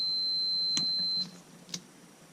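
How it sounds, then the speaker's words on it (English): A continuous high-pitched electronic warning beep from a Dodge Ram truck sounds, then cuts off abruptly as a wire is cut, followed by a couple of faint clicks. "let me get rid of this beeping"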